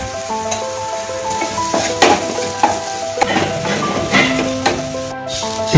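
Potato pieces being stirred with salt and coriander powder for aloo curry, a steady sizzle of frying in a pan with repeated scraping stirs and utensil knocks, close and clear with no talk.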